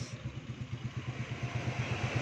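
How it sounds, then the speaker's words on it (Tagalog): Motorcycle engine idling steadily after being started with a two-way remote alarm system, a low regular putter with faint clatter, fairly quiet and close, with no talk over it. "Nakaandar na yung makina niyan"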